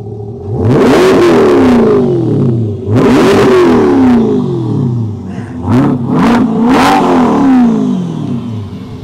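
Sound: 2021 Corvette Stingray C8 engine revving

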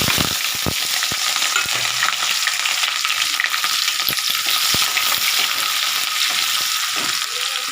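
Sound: vegetables added to frying chilli in oil and stirred

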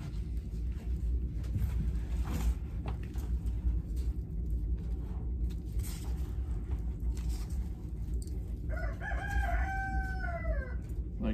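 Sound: rooster crowing

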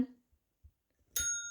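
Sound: Maine Coon cat pressing a bell

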